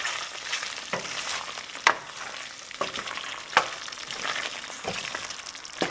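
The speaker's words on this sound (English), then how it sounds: "give it a good stir" Salted tomatoes for a spicy coconut milk chicken curry are stirred in a hot pan, a soft sizzle broken by several sharp spoon-on-pan clanks, close and with no voices.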